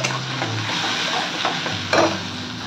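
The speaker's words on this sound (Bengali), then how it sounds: "এবার আমি একটা টমেটো পেস্ট করে দিলাম, এটাকে ভালো করে ভাজবো যতক্ষণ না তেলটা ছাড়ে।" Tomato paste fries in oil for a Bengali fish curry, a soft steady sizzle with spatula stirring scrapes and a brief louder scrape near the end, with no talk.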